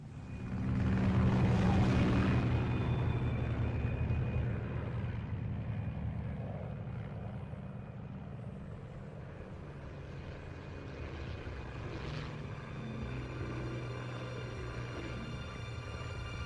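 A propeller airplane flies over Pakistan in a Metal Gear Solid 3 cutscene, a steady loud engine drone that swells early, then holds at a constant level under a low musical hum.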